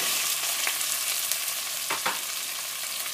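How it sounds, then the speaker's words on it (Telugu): Thinly sliced onions fry in hot oil in a pan for paneer biryani, a steady bright sizzle throughout with a few brief stirring scrapes. "ఈ ఆనియన్స్ బాగా ఫ్రై అవ్వాలి, అంటే లైటిష్ బ్రౌన్ అయ్యేంత వరకు మనము దీన్ని వేయించుకోవాలి."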